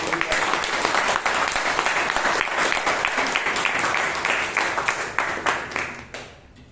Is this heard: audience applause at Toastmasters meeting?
yes